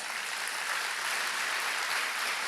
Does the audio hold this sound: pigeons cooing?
no